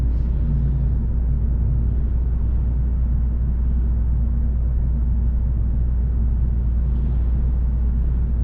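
A minivan driving with a window open, recorded on a GoPro microphone, giving a steady, loud low rumble of road and wind noise that never lets up, with no voices.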